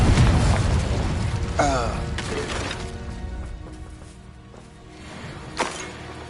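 Incendio fire spell cast in Hogwarts Legacy gameplay. Heavy fiery booms and crackling bursts hit hard at the start, then a second blast follows and trails off into a rumble before one last sharp pop.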